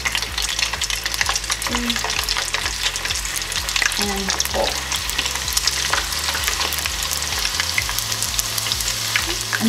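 Crab rangoons fry in hot oil, a dense bubbling crackle running continuously and close by, with scattered clicks and light stirring knocks throughout and no talking.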